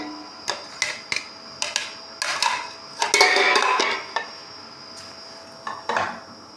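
Boiled potatoes tumble into a cooking pot for a degi chana pulao, giving a string of sharp clinks and thuds of metal and utensils, with a denser clattering stretch midway, close and crisp.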